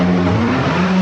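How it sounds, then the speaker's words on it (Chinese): A homemade vintage Shanghai rally car engine runs with a steady, loud, low droning hum, close up, for about a second. "这发动机终于给它干着了接下来咱们就开动一下试试"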